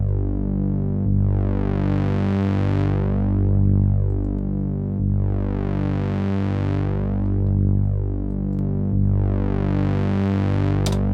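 Distorted synth bass from a three-oscillator stock plugin in FL Studio, playing a loud, gritty sustained line in three repeating phrases, each swelling into buzzy harmonic brightness before dipping, with no voices.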